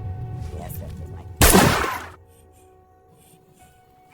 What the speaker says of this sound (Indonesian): Namun Kuple tidak percaya dan langsung menembak Bohai